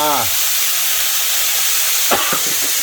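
Fish sauce poured into a hot pan with pork gives a loud, steady sizzling hiss that fills the whole stretch, with a brief tonal squeak at the start and faint clinks near the end.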